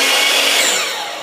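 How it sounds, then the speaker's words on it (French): A sliding miter saw spins up before cutting, making a loud, steady high-pitched whine for about a second that fades slightly toward the end. "Vous avez remarqué, je laisse tourner ma scie avant de couper."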